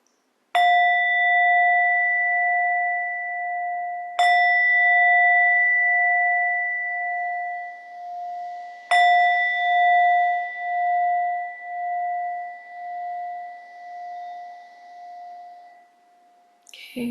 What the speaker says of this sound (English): Here comes the bell.